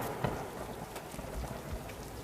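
Steady rain falls in a dense, even hiss at the start of monsoon season, with a few low rumbles that may be distant thunder, and no voices.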